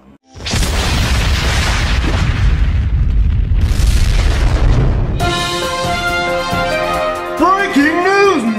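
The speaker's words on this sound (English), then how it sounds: "The United States has launched a nuclear missile at Subi Reacts." A huge nuclear missile explosion sound effect rumbles loud and sustained for several seconds, then cuts into a ringing, warbling tonal tail with music-like tones.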